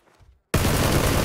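A sudden loud burst of rapid gunfire in the video game PUBG cuts in after a near-silent moment and keeps firing densely to the end.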